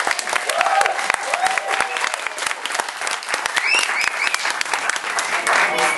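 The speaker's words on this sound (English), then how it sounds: "put your hands together" Wedding guests applauding during a father's speech, a lively burst of close hand claps with scattered voices and a few cheers throughout.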